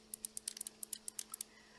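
Crisp, sharp clicks from the mechanical buttons of an IINE Neptune Switch joypad, about a dozen quick presses in an uneven rapid rhythm, close and quiet with no talking.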